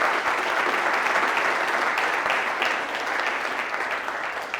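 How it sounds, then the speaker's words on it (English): An audience at a talk on personality tests claps steadily, a dense, sustained round of applause that fills the whole stretch and fades slightly at the end. "I just want to give you a round of applause and thank you for the time you've spent with us."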